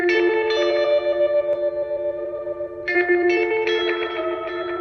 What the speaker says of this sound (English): where it sounds like it like repeats but detunes, and then some chorus